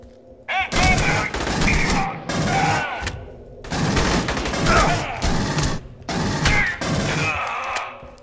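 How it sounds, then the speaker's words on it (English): Smart gun covering fire in the video game Aliens Colonial Marines, loud sustained bursts of rapid automatic gunfire broken by short pauses, with mechanical clanks and a brief electronic chirp between bursts. "Nice covering fire, buddy. That's smart gun."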